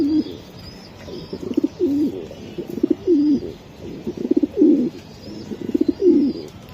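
Racing pigeons coo in repeated soft, throaty phrases close by, a steady rhythm of rolling calls with faint chirps mixed in and no talking.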